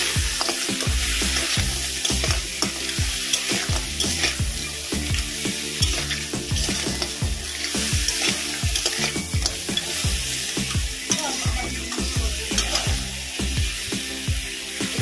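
Crab stirring and frying in a pan with salt and turmeric, a steady loud sizzle with repeated scraping stir strokes in a regular rhythm, close up and with no talking.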